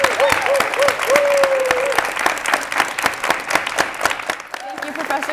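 An audience at a studio talk event claps loudly and continuously, bright dense applause with a brief vocal tone near the start, then tapering slightly toward the end.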